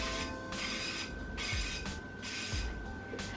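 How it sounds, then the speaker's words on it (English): Short bursts of coconut oil cooking spray hiss in repeated spurts, close and fairly quiet, with faint mechanical clicks between them. "I'm just gonna spray it with my coconut oil spray"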